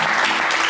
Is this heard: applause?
yes